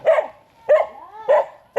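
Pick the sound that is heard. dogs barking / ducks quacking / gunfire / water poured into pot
dogs barking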